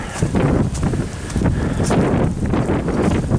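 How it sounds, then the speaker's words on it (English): Gusty wind buffets the microphone outdoors beside a big open cornfield, a steady rushing roar with repeated swells and rustling, no voices. "now the wind's blowing"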